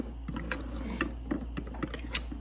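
A utensil scraping and clinking against a bowl while mixing cornbread batter, irregular taps and knocks of stirring with a low steady hum behind.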